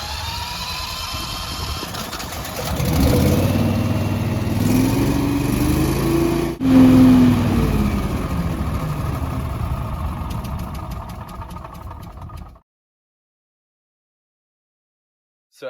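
A Trac Vac 288 leaf trailer's small engine is key-started with the choke pulled, catches after a few seconds, and idles with a steady mid-pitched drone and a brief surge before cutting off, leaving silence.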